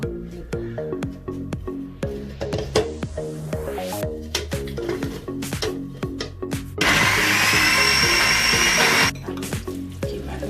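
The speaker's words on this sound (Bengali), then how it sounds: "এখন আমি এই ভেজিটেবলগুলো এবং পেঁয়াজগুলো ব্লেন্ডার করার জন্য" An electric blender grinds vegetables and onions for chicken kebab, starting with short, rhythmic motor pulses and then whirring in one loud, steady burst lasting a couple of seconds before stopping.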